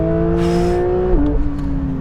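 A Porsche 911 GT3 on a circuit at full throttle, a loud steady engine drone from inside the car that holds pitch then drops sharply at a gearshift and settles lower, no talk.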